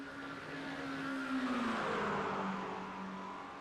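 McLaren race cars battle at Spa in iRacing, engines whining with rising and falling pitch as they shift and corner, heard at moderate distance under a steady roar.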